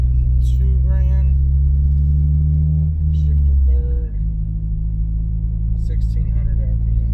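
Car engine idling low and steady in second gear at around 1,600 RPM, a loud continuous rumble that dips briefly near four seconds and then settles, with someone talking over it throughout.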